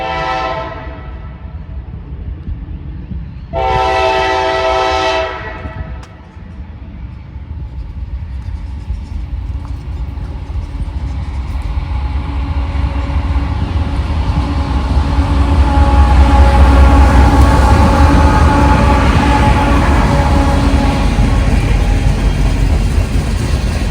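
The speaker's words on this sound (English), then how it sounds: "I didn't get the symbol of this southbound mixed freight train" A southbound mixed freight train at a road railroad crossing: two loud horn blasts, then the rumble and clatter of the passing cars builds and holds, close and heavy.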